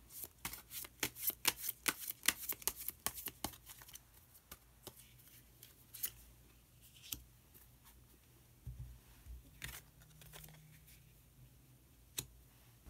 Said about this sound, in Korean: 카드 한 장을 더 뽑고 이야기 계속 나누도록 하겠습니다.